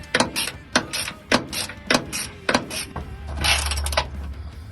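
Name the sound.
ratchet removing bolts from a transmission bracket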